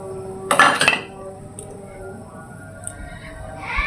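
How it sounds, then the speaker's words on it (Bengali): Shrimp are dropped into a cooking pan with a brief wet splat and clatter against the metal, followed by a low hiss and a few faint clinks in a quiet kitchen. "আমি এখন চিংড়ি মাছ দিয়ে দিলাম"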